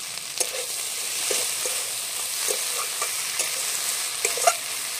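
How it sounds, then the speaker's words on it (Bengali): Veg roll filling with coriander leaves being stirred in a hot pan, with repeated light spatula scrapes and taps over a bright, steady sizzle. "ধনে পাতাটা দিয়ে এরকম নেড়ে নেবো।"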